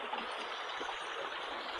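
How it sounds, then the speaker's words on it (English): A small trickle of water running through a canal lock spillway, a faint, steady, soft burble heard alone throughout at a moderate distance. "There's not much water running through here at the moment."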